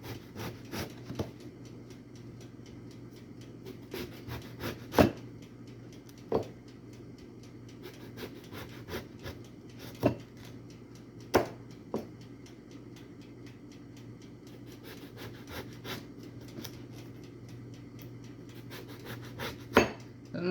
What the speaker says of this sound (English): And you go slice like that.